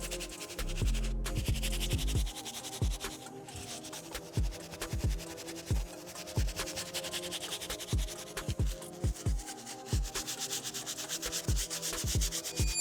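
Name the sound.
medium bristle brush scrubbing sneaker midsoles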